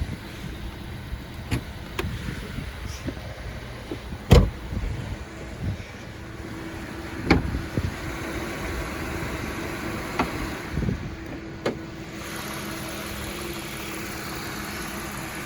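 A Volvo XC70 with a naturally aspirated 3.2-liter inline-6 idles at steady volume, a close, even low rumble broken by a few sharp knocks and clicks.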